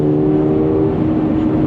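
A Toyota GR86 Yuzu Edition drives through turns, its engine a steady, loud drone heard from inside with a constant low hum and faint road noise.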